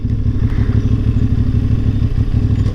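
A motorcycle engine rumbles steadily and loud through the streets of Monaco, its low, continuous drone holding without a break as the rider moves along.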